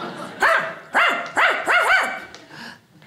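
A stand-up comedian imitates Lassie the dog with his voice, giving four loud, evenly spaced barks followed by a fainter trailing whine.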